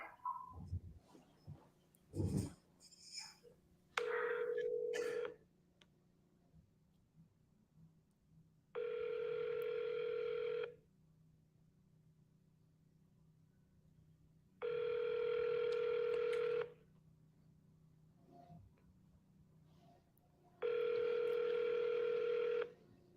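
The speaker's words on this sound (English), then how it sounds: "Come on, man. Answer the phone. Somebody answer the phone." Telephone dialing tones followed by repeated ringback tones during cold calls for wholesale real estate, with a quick burst of keypad beeps, then four evenly spaced long rings separated by pauses, clear and moderately loud.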